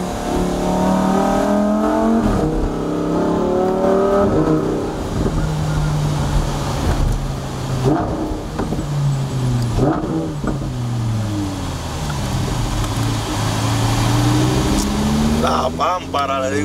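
A Lamborghini sports car engine revs loudly and climbs through several rising pitch sweeps as it accelerates, with wind rush around it and nobody talking.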